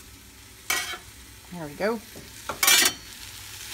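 Meat, spices and vegetables for a Southwest-style chili being stirred in a frying pot, with a couple of short scraping stirs over a sizzle and a brief spoken remark in between.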